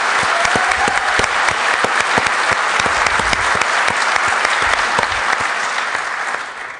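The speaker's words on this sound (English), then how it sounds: "Let's give Ron a round of applause." A conference audience at Black Hat 2010 breaks into steady applause, many hands clapping densely and continuously before the sound tapers off at the end.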